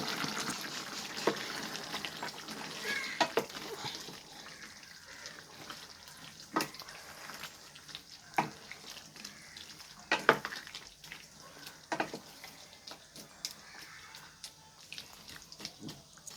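Steady bubbling and simmering of a country chicken curry boiling in a pan, with scattered pops and clinks of a spoon, fairly quiet with no talking.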